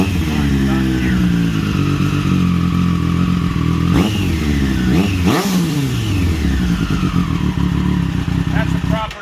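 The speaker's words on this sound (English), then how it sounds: "That's a proper sounding exhaust." A 2020 Triumph Street Triple 765 with an SC Project S1 titanium exhaust idles loudly up close, then blips its throttle in two sharp revs that rise and fall, with someone speaking over the engine.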